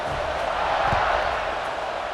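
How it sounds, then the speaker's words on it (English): A football stadium crowd cheering before a kickoff, a broad, steady roar that fills the space without distinct peaks. "this crowd is feeling themselves after that last drive"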